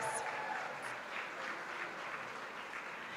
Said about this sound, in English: Give them too a round of applause